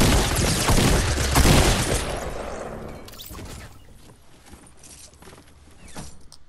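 Rapid bursts of gunfire crackle densely through a Fortnite Battle Royale match, loud and continuous at first, then thinning into scattered, more distant shots and clatter.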